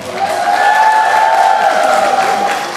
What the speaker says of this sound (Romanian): Aplauze, aplauze, aplauze și iarăși aplauze.